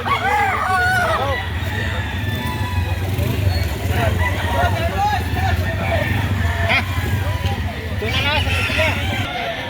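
Roosters crowing in a busy poultry market where gamecocks are sold, with repeated calls over steady crowd chatter and background engine rumble; people talk throughout.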